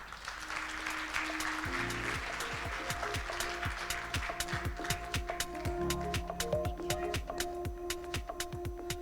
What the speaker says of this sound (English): a big round of applause for all our new partnerships